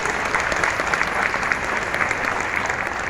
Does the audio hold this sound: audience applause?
yes